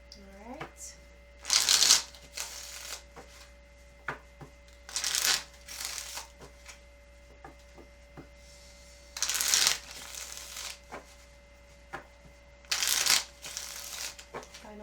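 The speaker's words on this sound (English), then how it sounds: "Final shuffle for Leo, July 2020." Tarot cards are riffle-shuffled by hand in four separate bursts of crisp flapping, with quiet pauses and light handling noise between them, close and fairly soft.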